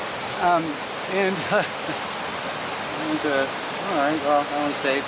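The Acheron River in Jamaica flows strongly, making a steady, dense rushing roar that fills the scene while someone talks over it.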